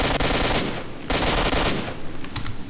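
Video game gun firing in rapid automatic bursts, loud and close, two long rattling volleys followed by scattered shorter shots.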